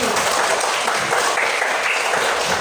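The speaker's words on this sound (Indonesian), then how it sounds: "Beri tepuk tangan untuk Dewi" Loud, dense applause from a congregation-style audience at a teacher training program gathering in Indonesia, close and continuous for a short burst.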